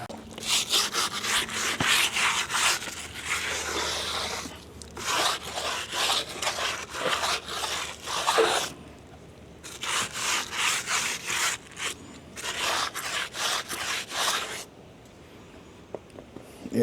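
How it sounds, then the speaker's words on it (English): A brush scrubs a dirty car wheel coated in tough wheel and tire cleaner, making rapid rhythmic back-and-forth scratching strokes in close, loud bursts separated by short pauses. "Let's start scrubbing."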